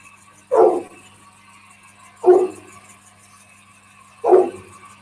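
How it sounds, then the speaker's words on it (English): A pet dog gives three single, distinct barks spaced a couple of seconds apart, fairly close and clear against a quiet indoor background. "That's my dog saying hello too."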